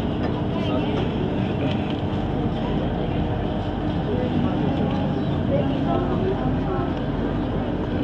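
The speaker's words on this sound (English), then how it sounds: "We are taking a tram right now" A crowded tram rumbles steadily along, its continuous low noise loud and unbroken throughout, with no distinct voices standing out.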